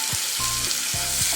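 Steady sizzling of ginger garlic paste frying in a hot pan for mutton chukka, with occasional clinks of a spoon stirring through it.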